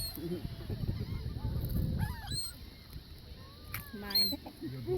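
Seagulls at the beach call out in sharp, rising squawks and honks, several nearby birds overlapping while people talk and react under and between the calls.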